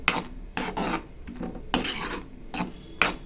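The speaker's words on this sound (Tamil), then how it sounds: "இப்போ அடுப்பில் இது மாதிரி நம்ம கிளறி விட்டுகிட்டே இருக்கலாம்" Date halwa being stirred in a pan on the stove, a spoon scraping and rasping against the pan in repeated strokes, close and fairly quiet with no talking.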